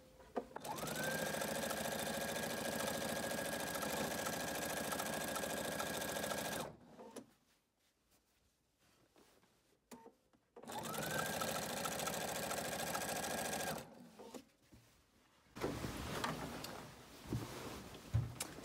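A sewing machine stitches quilt binding in two long, steady runs of fast whirring. A quiet pause with faint handling noises separates the runs, and shorter rattles come after the second run. The sound is close and clear, with no talk.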